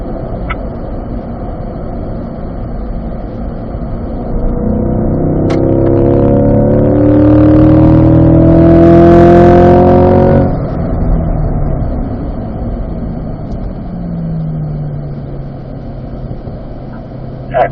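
A Corvette on a race track at an owners school accelerates out of a turn, its engine note rising and swelling loud for several seconds before easing back to a steady drone.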